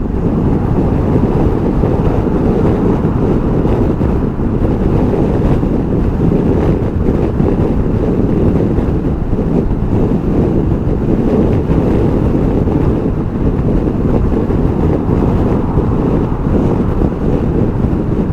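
Wind roars steadily and loudly against the microphone while a SuperSoco CPX electric scooter is ridden at its maximum speed, a dense, unbroken rush with no voices.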